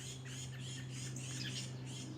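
Birds squawk in a backyard, giving repeated shrill, scratchy calls at a moderate distance over a faint steady hum, with no talking.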